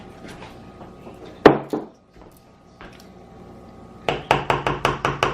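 Strawberries being chopped on a cutting board for cake frosting: one sharp knife strike early, a quiet pause, then a rapid run of about eight close, evenly spaced chops near the end.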